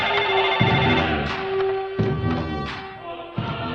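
A telephone rings in repeated electronic bursts with brief pauses between them, fairly close, with no one speaking.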